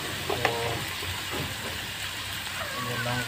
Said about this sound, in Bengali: নাড়াচাড়া করছি